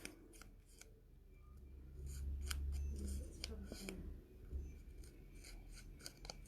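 Scissors snip through card pieces for a card project in a run of crisp, close, irregular cuts, with soft rustling of paper between them and no talking.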